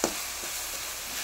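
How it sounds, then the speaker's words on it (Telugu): Ginger paste fries in a pan with tomatoes for a Rayalaseema-style uggani, giving a steady, soft broadband sizzle throughout with a faint scrape near the start and no talking. "ఇప్పుడు అల్లం పేస్ట్ పచ్చివాసన పోయేంత వరకు వేయించాలి."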